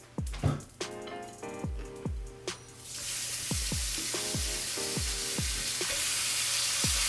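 Shrimp sauté in a hot pan, with a few clinks and scrapes from stirring at first, and then a loud, steady sizzle builds and holds close by.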